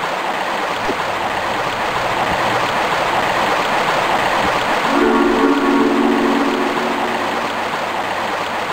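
A waterfall and rushing current in Tomb Raider I Remastered give a loud, steady broadband roar throughout, with a low tonal hum joining partway through.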